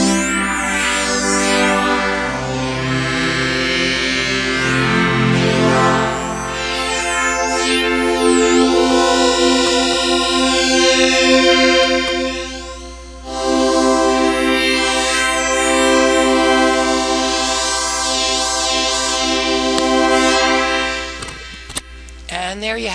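An AudioTerm wavetable synth plays sustained tones as the wavetable cycles while phase distortion is swept on the mod wheel, giving rich harmonic chords that warp and shift, with a brief dip midway and a short break near the end.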